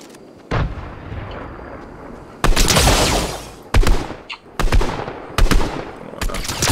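Auto shotgun gunfire in the video game Fortnite: a series of loud, sharp blasts fired in irregular bursts, each booming shot followed by a short decaying tail, with no talk over them.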